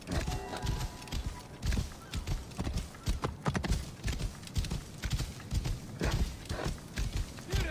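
Horse hooves clip-clop in an irregular rhythm at close range in the PS4 game Assassin's Creed Origins, with rustling movement around them.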